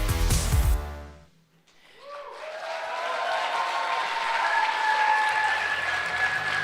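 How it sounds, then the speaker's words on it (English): Audience applause at the Youth Capital of Europe 2028 award ceremony, following loud music, then a steady swelling wash of clapping that holds through the rest, with faint tonal sounds over it. "A little applause never hurts, so keep going, keep applauding"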